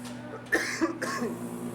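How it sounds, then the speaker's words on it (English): A person coughs twice in quick succession, close and fairly sharp, over a low steady hum. "I was gonna cough anyway"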